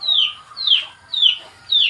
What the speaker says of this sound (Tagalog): Mga manok ka nandito.